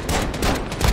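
Rapid bursts of heavy .50 cal gunfire in Call of Duty Warzone, several sharp shots in quick succession over about a second, loud and close.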